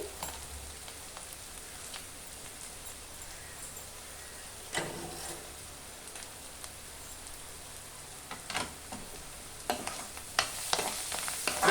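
Onions, green chillies and drumstick leaves frying in a pan give a soft, low sizzle, with occasional stirring scrapes that grow louder toward the end.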